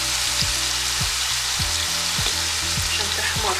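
Meat fries in a pan with tomato sauce, a loud, steady sizzle with a regular stirring or scraping rhythm beneath it.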